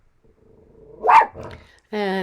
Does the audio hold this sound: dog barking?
yes